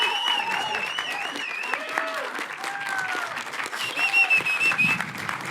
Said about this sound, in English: Please give her a huge round of applause.